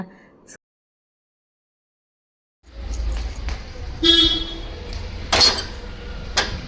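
After a short silence, a vehicle horn toots a few times fairly close, with clattering and engine noise around it.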